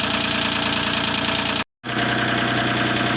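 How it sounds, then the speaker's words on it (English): A tractor engine idles steadily and loudly at close range with a knocking rhythm, cutting out abruptly for a moment before resuming. "Liam and Dad are getting the tractor set up"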